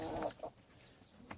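Chickens on an icy homestead give a few faint, short clucks at a distance, quick bursts early on and one more near the end, with quiet stretches between.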